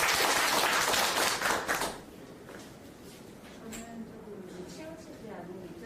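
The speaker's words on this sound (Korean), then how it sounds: "박수를 청년들을 위한 박수는" An audience at a real estate policy meeting claps for young people, a short burst of applause lasting about two seconds that fades into murmuring voices and room noise.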